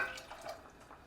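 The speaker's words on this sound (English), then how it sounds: "that adds like a bit of salty pasta water." Salty pasta water pouring into a simmering pasta sauce makes a soft, faint liquid trickle and splash lasting about a second.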